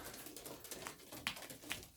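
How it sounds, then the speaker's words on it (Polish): Pigeons at a loft in Milicz on a Saturday morning, cooing softly and intermittently at low volume, with a few light scuffs and patters nearby. "Fajnie, że gołębie nie boją się ręki."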